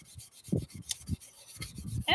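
Wet sanding a car headlight, with soft rhythmic rubbing strokes of sandpaper against the plastic lens, close and quiet.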